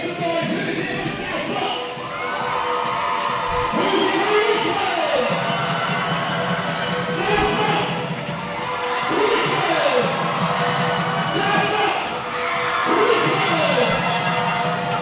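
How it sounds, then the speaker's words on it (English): Indoor crowd cheering and shouting ahead of an under-16 girls' cup final between Richmond and South Bucks, a loud, continuous roar with rising whoops and squeals, commentators talking over it. "you can certainly hear the crowd is ready for this one"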